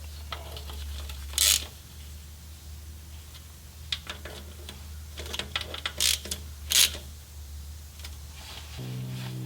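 Ratchet clicks and metallic mechanical ticking come from tightening the bolts on a car's transmission pan during a transmission service, in a few short bursts with quieter handling noise between them, close by.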